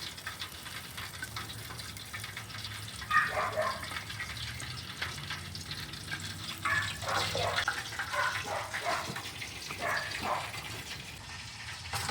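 Hot frying oil drips and splatters off a fried turkey as it is lifted slowly from the pot, a continuous gushing, sizzling trickle with scattered louder spits and crackles.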